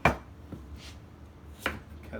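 A kitchen knife chops through pieces of winter squash on a cutting board, two sharp close thuds about a second and a half apart with quiet between them.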